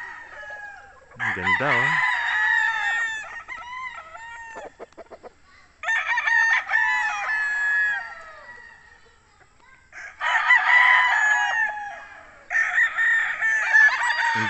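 Boston Roundhead roosters on a farm crow loudly and close in several long, wavering calls with clucking between them, while someone briefly speaks over the birds.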